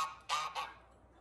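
A goose gives two loud, nasal honks in quick succession, close by, with quiet background after them.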